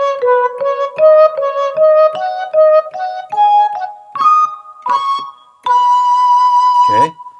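The flute/marimba solo plays as a clean sequence of bright, distinct pitched notes that step gradually upward, ending in a sustained tone and a short sliding flourish.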